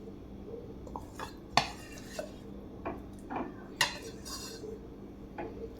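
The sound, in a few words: stirring mango pieces into sabudana shake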